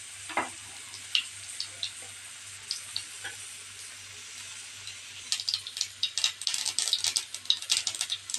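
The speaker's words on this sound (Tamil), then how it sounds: "இப்போ எண்ணெய் காஞ்சிருச்சு, கடுகு போட்டுக்கலாம்." Mustard seeds dropped into hot oil set off a low sizzle, scattered sharp pops at first, then a dense crackling burst of spluttering seeds toward the end.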